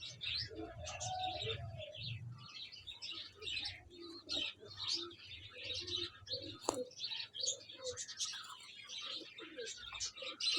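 Parwazi pigeons at a pigeon club in Chishtian give soft repeated coos and chirps, a low burbling at the start followed by scattered bird calls, fairly close and quiet, with occasional wing or cage noise.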